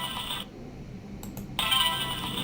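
A short item pickup sound effect in the Roblox game sounds alone as a bright chime, heard twice with a brief gap between, against a steady background hum.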